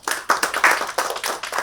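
Audience at a corporate business event in Mumbai applauds in a brief, close burst of dense clapping.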